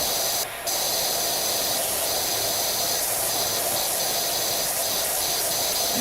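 Pressure washer spraying in PowerWash Simulator 2, a steady loud hiss of water jet running continuously with brief interruptions and bursts, no talking.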